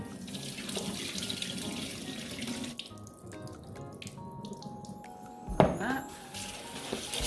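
Tap water runs into a sink while rice is rinsed for fried rice, a steady close splashing stream with light clinks and a sudden louder gush near the end.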